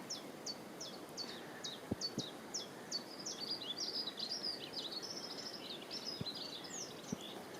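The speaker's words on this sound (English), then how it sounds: "A lovely little green finch." A greenfinch sings outdoors, with a faint series of rapid twittering chirps and trills repeating throughout, accompanied by a few soft ticks against quiet natural background noise.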